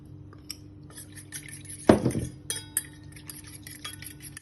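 Milk and all-purpose flour stirred in a bowl for an oven-free chocolate cake, a few light utensil clinks and then a short burst of scraping and knocking against the bowl, close and quiet.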